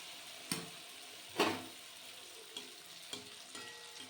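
Sweet potato malpua batter dropped by the ladleful into hot oil, a quiet steady sizzle with a few sharp clinks and scrapes of the ladle against the pan.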